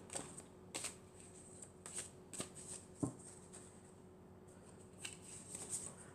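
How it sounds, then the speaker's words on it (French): Tarot cards are shuffled in several quick riffling bursts with short pauses between them, close and fairly quiet against a low hum. "Alors, je vais mélanger, je vais prendre encore 4 cartes."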